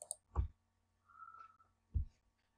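Two separate computer mouse clicks while faces are selected in meshing software, each a short dull tap close to the microphone, with a faint brief sound between them and no voices.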